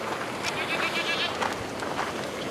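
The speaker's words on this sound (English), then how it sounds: "Those are the most spoiled goats in the world." Goats at a water treatment plant bleat with a wavering, nasal cry over a steady background rush, one call clearly drawn out and others fainter around it.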